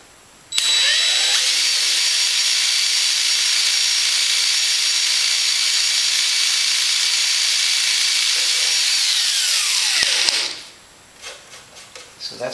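Loud, steady whine of a power drill boring holes in an RV-7 aircraft wing flap, running continuously for about ten seconds before spinning down, followed by a few faint metallic clicks.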